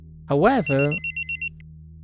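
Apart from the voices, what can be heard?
phone alarm ringing in a Doki Doki Literature Club mod video game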